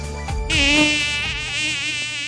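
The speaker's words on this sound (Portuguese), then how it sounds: "Ah, esse zumbido. Quando vamos vencer o mosquito?" A mosquito whines close and loud in a thin, steady, high-pitched drone that wavers slightly in pitch, heard alone without any talking.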